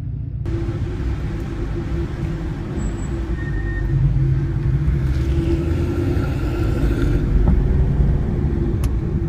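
A Maserati drives on a race circuit, heard from inside as a steady, heavy low engine rumble and road drone that swells slightly partway through and holds constant.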